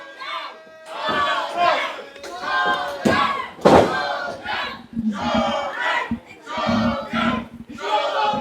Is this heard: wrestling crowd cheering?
yes